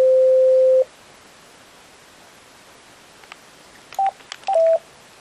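A Tetra radio gives electronic beeps: one long steady tone at the start, then a few short tone blips near the end over a constant hiss background.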